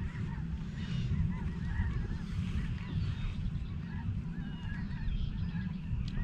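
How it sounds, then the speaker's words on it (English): A flock of snow geese honks continuously at a moderate distance, many overlapping calls over a low, steady background rumble. "Hi, geese."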